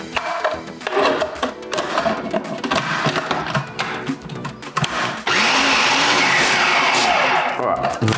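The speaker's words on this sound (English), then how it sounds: "make sure we get as much of this onion blended as possible" A blender whirs loudly and continuously, pulverising onion into juice, the motor pitch rising and roaring harder in the final seconds with no talk.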